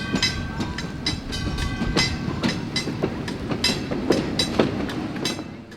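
An early-1900s trolley car once used in Chicago pulls away at a railway museum, its wheels clicking and rumbling over rail joints in a steady rhythm, close and fairly loud with a faint tonal hum.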